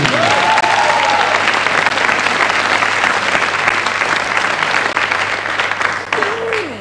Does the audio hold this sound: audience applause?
yes